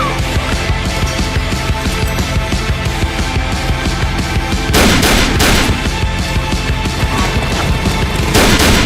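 Gunfire in a Sons of Anarchy scene, a loud sustained barrage of shots with bursts that grow sharper and heavier partway through, mixed over busy background sound.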